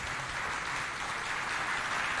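Audience clapping at a community youth holiday event in Walia, a steady broadband wash of many hands, moderately loud and continuous with no talk over it.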